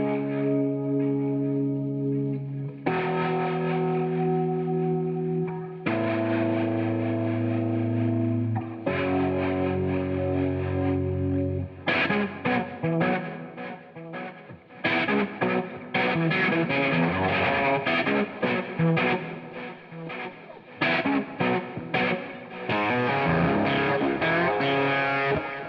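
Electric guitar through a Keeley Monterey fuzz pedal gives a thick, saturated, distorted tone. Sustained chords ring out at first, then give way to busier, choppy riffing, loud and continuous with no talking.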